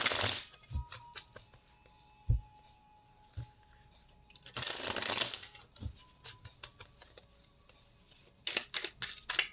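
Tarot cards are shuffled up close in quiet bursts of riffling and soft slapping, with a few isolated taps and pauses in between.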